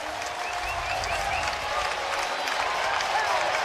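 A baseball crowd at a college game between South Dakota State and Nebraska roars and applauds after an outfielder cuts off a line drive, a dense, steady wash of cheering with whistles rising through it, loud and sustained.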